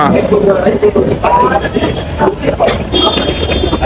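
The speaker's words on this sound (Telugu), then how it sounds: "this is our railway station" Busy railway station with a loud, dense crowd din of many overlapping voices, train and rail noise mixed in, and a brief high tone near the end.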